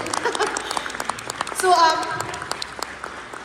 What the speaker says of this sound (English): Can we give our translators a round of applause today?